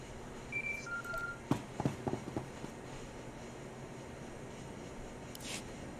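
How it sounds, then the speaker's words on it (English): A short in-game phone call tone in Star Wars: The Old Republic, a few brief beeping pulses over a soft background hum, followed by quiet ambience. "Oh, I have a phone call."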